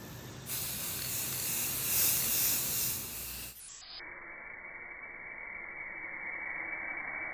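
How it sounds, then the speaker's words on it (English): A spray can coating a garage gym piece in black paint, a steady loud hiss for about three seconds that cuts off, followed by a fainter continuous hiss. "why are you painting? You don't like the purple?"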